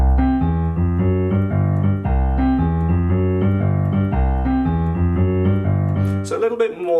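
A piano plays a rolling boogie woogie left-hand pattern for Jingle Bells, starting two octaves below middle C, with even repeating low notes and no talking over it.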